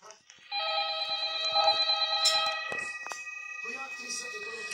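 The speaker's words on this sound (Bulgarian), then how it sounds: "Някой се обажда, аз знам къде е телефона." Telephone ringing in a horror video game, a sustained electronic ring lasting a couple of seconds with a person talking over and after it.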